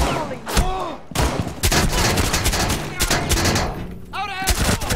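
Rapid gunfire in the Rainbow Six video game, with loud overlapping shots and bursts from close range across the whole stretch and brief electronic tones mixed in.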